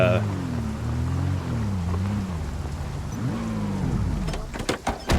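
A very loud truck engine with no muffler from the Project Zomboid video game drones continuously, a raw throaty rumble that rises and falls in pitch as it revs, with a few sharp clatters near the end.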